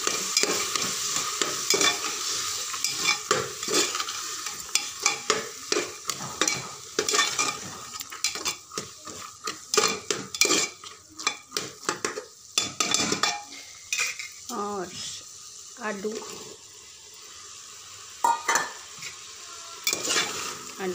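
Potato and pea masala stirred in a pan, a spoon scraping and clinking against the metal in quick irregular strokes over a soft frying sizzle, close and fairly loud throughout.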